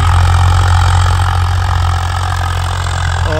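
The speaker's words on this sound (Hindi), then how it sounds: "ये रामराज के शाहपुर गांव में ट्रैक्टर चल रहा है जी" A Swaraj four-wheel-drive tractor engine runs loud and close in a village in Uttar Pradesh, a steady low diesel throb with an even, unbroken drone throughout.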